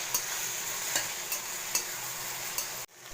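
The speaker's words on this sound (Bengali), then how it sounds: "এবার আমি টমেটোর পেস্টটা করে রেখেছিলাম, দিয়ে দিলাম। কষা হবে এখন এটা।" Tomato paste sautéing in a pan for matar ghugni, a quiet continuous sizzle with a spoon scraping and stirring at a regular pace, about every second, no talk.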